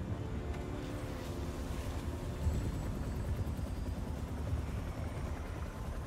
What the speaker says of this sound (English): I can feel the vibration of the helicopter in my controller.